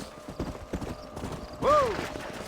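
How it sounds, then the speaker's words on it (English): Horse hooves clip-clop in Red Dead Redemption, a steady rhythmic run of hoofbeats, then a horse whinnies with a rising and falling cry partway through. "don't let those horses out of your sight"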